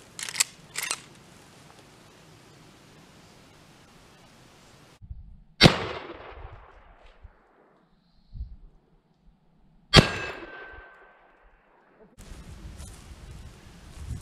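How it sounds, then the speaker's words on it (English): Two sharp, loud rifle shots crack from a vintage Winchester firing a .25 caliber bullet, each with a ringing decay, set apart by quiet stretches and some faint handling noise. "now we'll see what happened with a little more powder behind a 25 caliber bullet"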